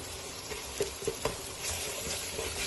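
Egg biryani with salt stir-fried in a pan: a steady close sizzle with several scraping stirs of a spoon against the pan, no voices.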